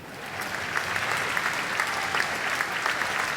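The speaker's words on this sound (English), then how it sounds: "there is applause around the ground" Stadium crowd applauding around the ground at an Adelaide United v Perth Glory A-League football match, a sustained broad roar of many hands clapping with occasional sharper claps, heard from a distance.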